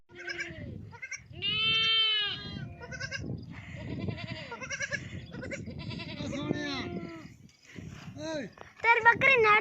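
Goats bleating repeatedly in a desert household in Pakistan, several wavering calls close by over a steady murmur of people talking, with a louder burst of bleats near the end.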